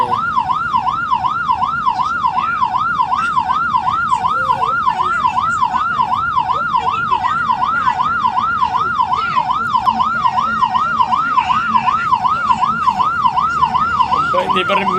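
An ambulance siren wails steadily in a continuous rising and falling pattern, loud and close, while stuck in heavy traffic, with faint road noise underneath.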